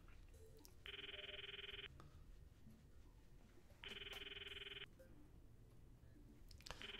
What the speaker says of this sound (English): Ring, ring, ring. Answer the phone call.